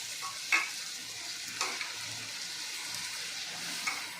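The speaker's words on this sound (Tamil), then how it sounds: "சாம்பார் அது கொதிக்கட்டும்" A steady, bubbling hiss from a pot of sambar on the boil, with a couple of faint clinks and no voices.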